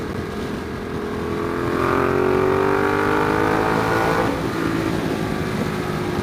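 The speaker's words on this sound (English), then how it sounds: "Wow, I can hear my exhaust through your mic." Motorcycle exhaust from a Ducati Diavel or Yamaha R1 riding in traffic alongside a semi truck: a steady, loud engine drone whose pitch climbs and falls through gear changes, with continuous road and wind rush underneath.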